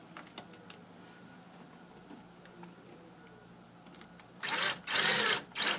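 A power drill drives a screw during a Solarguard 155 module replacement, with a few close, loud whirring bursts near the end after a quiet stretch.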